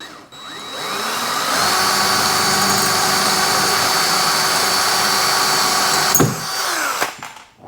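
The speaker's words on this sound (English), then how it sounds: "So I gotta get this drilled out now." Power drill boring through a golf cart bar to pass a USB cable, a steady loud whine held for about six seconds before a sharp snap and the motor winding down.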